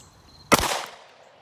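A single sharp shot from a Glock 45 pistol fired at an outdoor range, loud and close, with a sudden crack and a brief decaying echo into quiet.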